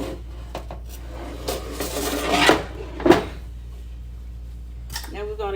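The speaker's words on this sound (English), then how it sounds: "I put it on a pan." A hot metal baking pan of buttermilk cornbread sticks made with white cornmeal is pulled across a kitchen counter and set down, giving a scraping clatter and two sharp clanks, with a brief voice near the end.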